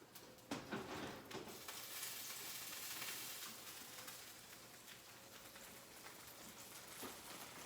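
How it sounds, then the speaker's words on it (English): Oven-roasted chicken wings, skin crisped with a little oil on a lined baking sheet, sizzle and crackle steadily throughout at moderate volume, a dense hiss with scattered pops and no talking. "You can hear these sizzle."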